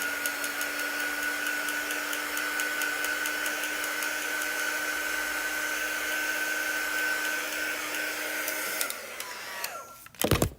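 A hair dryer blows at close range with a steady, loud whine and rush of air over freshly applied chalk paint. It runs continuously for about nine seconds, then cuts off, followed by brief handling clatter.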